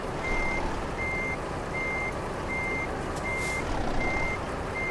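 Reversing beeps from a truck in Euro Truck Simulator 2 sound as a steady series of evenly spaced electronic tones over a constant engine drone.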